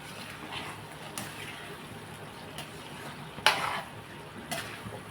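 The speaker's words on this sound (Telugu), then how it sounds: "1 నిమిషం ఉడకనిద్దామండి" Egg, capsicum and tomato curry simmers in oil in a pan, a faint steady bubbling sizzle broken by a few sharp spoon clinks and stirring scrapes.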